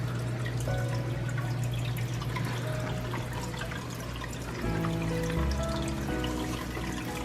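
Water drips and trickles into a container as a fish tank is emptied, a busy, continuous patter of droplets with a steady hum beneath and no voices.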